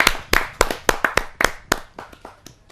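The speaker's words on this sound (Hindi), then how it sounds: "ऐसे अनूठे कवि को मैं जोरदार तालियों के साथ अभिनंदन करते हुए स्वागत करता हूं" An audience at a Kavi Sammelan poetry gathering claps to welcome a poet: about a dozen sharp, separate hand claps in an uneven rhythm, close and crisp, thinning out and growing fainter toward the end.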